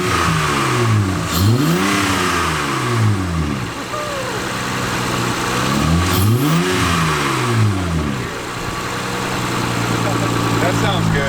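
Honda Accord fitted with a short ram intake, engine idling then revving up in repeated rising and falling bursts, close and loud, with people talking over it.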